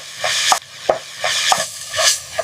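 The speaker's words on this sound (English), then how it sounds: "Add oil to the meat so it doesn't burn or stick to your pan." Minced beef for a samosa filling sizzles in oil in a pan, a bright steady hiss broken every half second or so by soft scraping stirs, close up and with no voices.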